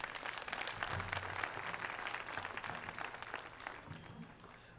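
Audience applause in a school hall during a school annual day function, a steady wash of many hands clapping at moderate volume, lightly fading toward the end with faint background murmur.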